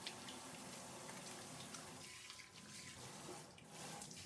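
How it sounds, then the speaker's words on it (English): Kitchen tap water runs steadily into a sink, a continuous faint hiss and splash with no voices, lasting the whole few seconds. "I'm leaving the water running because I'm going to turn around and wash my hands right after."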